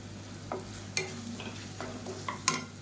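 Tomatoes and spices sauté quietly in a pan for a side dish, with a soft low sizzle broken by about six short spatula scrapes.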